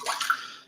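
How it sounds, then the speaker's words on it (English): Water poured into a can while cooking green beans at home, a brief close splashing rush that tapers off within a second. "Added some water to the can."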